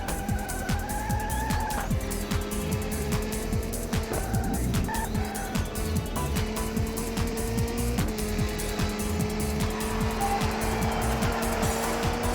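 Mercedes race car lapping in the Le Mans 24 Hours racing game, a loud engine note rising and shifting through gears with brief tyre squeals, continuous and close throughout with no speech.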